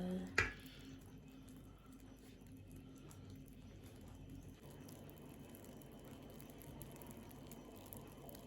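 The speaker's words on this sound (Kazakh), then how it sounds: "Енді пирогымыздың үстіне 1 стакан салқын су құямыз." A glass of cold water poured over a freshly baked hot cake gives a faint, steady hiss and soft squishing as the water soaks in, after a brief click at the start.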